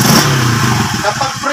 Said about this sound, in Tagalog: So paandarin muna natin. Ayan, umaandar siya ng Padreng.